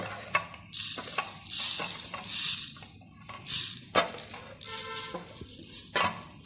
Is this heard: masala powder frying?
yes